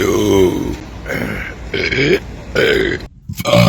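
A man belches repeatedly at close range, a string of four or five loud, gravelly burps in steady rhythm with short gaps between them.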